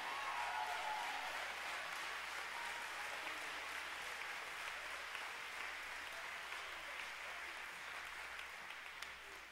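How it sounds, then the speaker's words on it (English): A church congregation claps hands in praise, a dense, steady wash of applause that fills the room throughout and thins slightly toward the end. "clap your hands to the Lord."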